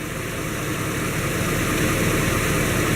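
A 5.3 engine, freshly repaired with a new oil cooler gasket, runs at a steady idle: a continuous, even low rumble with a constant hiss on top, close and unchanging throughout, with no one talking.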